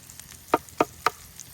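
Food sizzles as it is dropped into a hot pan for a one-pan brunch: three short, sharp hisses in quick succession, fairly quiet, with no talking.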